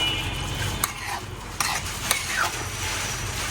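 A crushed spice mixture is stirred in a pan over a soft sizzle, with a few sharp scrapes and clinks of the utensil against the metal, and no talking.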